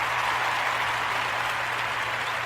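A studio audience applauds for a guest on a talk-style show, a steady wash of dense clapping that holds at even strength from start to finish with no voices over it.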